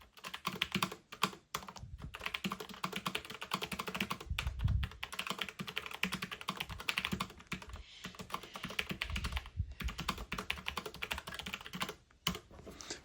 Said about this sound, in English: you still get that satisfying click that you get from a mechanical keyboard